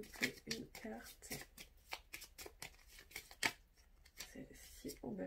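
Tarot cards being shuffled and drawn by hand, a run of quick riffling and flicking bursts close up, with someone speaking French intermittently between them.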